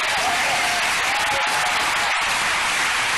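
Sermon audience breaking into loud, sustained applause, a thick continuous roar of many hands clapping together throughout, no speech on top.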